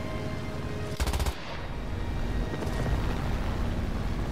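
Video game gunfire from a flight combat game, where a short rapid burst of automatic fire cracks out over a constant roaring engine drone, and a fainter second burst follows a moment later.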